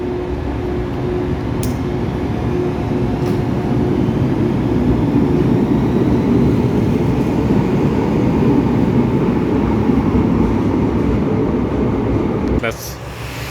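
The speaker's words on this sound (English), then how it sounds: "Looks like this train is leaving." A train pulls away from a station in Japan with a steady low rumble and hum that holds for around twelve seconds, then drops off abruptly near the end.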